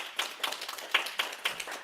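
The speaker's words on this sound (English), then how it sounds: "JD deserves another round of applause." A small group at a council of trustees meeting claps for a colleague, a short sparse patter of a few hands with distinct individual claps rather than a full ovation.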